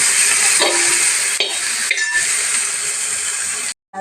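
Chopped onion with crushed ginger and garlic sautés in a pan, a loud, close sizzle and hiss with occasional stirring scrapes and a light clink, cutting off abruptly near the end.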